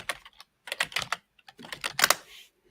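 Fast bursts of clicky typing on a computer keyboard, close and crisp, in irregular clusters with short pauses between.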